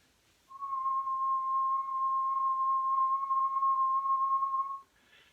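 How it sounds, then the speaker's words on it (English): A person whistles a single steady tone of about 1,000 cycles per second in a physics of music class, held clear and unbroken for roughly four seconds against a quiet room. "what I'm doing there is I'm simply whistling"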